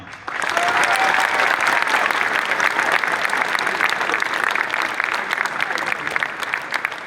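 Convention crowd at a talk breaks into applause, a sudden swell of many hands that rises within half a second and then stays loud and dense, easing only slightly toward the end.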